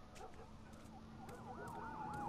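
Police sirens wailing in The Last of Us video game, several rising and falling tones overlapping at a distance and swelling louder toward the end, over a faint low hum.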